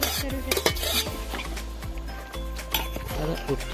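A spoon stirs chicken in gravy in a large pot at an outdoor night chicken party, with repeated scraping clinks against the metal and a soft sizzle underneath, while people talk nearby.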